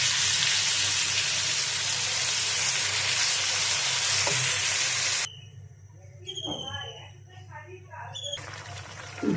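A pan of curry sizzles and hisses loudly and steadily for several seconds, then cuts to quieter kitchen sounds with someone talking as okra and fish go into the pan.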